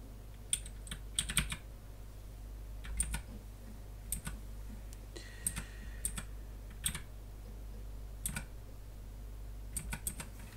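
Sparse, quiet clicks of keys pressed on a computer keyboard, including the control key, come in short bursts and single taps against a low, steady hum.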